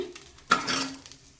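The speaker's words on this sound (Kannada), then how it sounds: "ಅದಕ್ಕಾಗಿ ಈಗ ಇದನ್ನು ಒಂದು ಪ್ಲೇಟಿಗೆ ನಾನು ತೆಗೆದು ಇಟ್ಕೋತೀನಿ" A fried mix of ingredients for methi corn pulao is scraped from a pan onto a plate, giving one sharp metallic clank followed by a brief rustle and scrape, close and alone.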